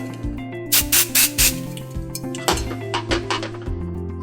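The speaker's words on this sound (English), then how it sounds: "We're going to use some of the Enjoy Dry Shampoo." Enjoy dry shampoo sprayed onto hair gathered in a ponytail while styling space buns, heard as several short hissing bursts over a steady background of tonal music and light clinks.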